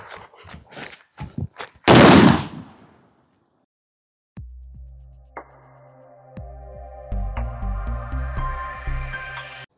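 A Sivakasi naatu vedi elephant firecracker goes off outdoors with one loud, close blast and a short rumbling tail, after a few sharp pops. Quiet follows, and then tonal sounds.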